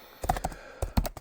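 Keystrokes on a computer keyboard while typing in Spanish: a few clustered clicks in two short bursts, close and fairly clear, with no talking.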